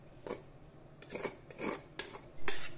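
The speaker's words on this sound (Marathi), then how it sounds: "पसरट कढईमध्ये आता ही उकड आपण काढून घेऊ।" A few soft metallic scrapes and taps as steamed rice-flour dough for mango modak is scooped into a wide pan, quiet, close, spaced clinks of utensil against metal.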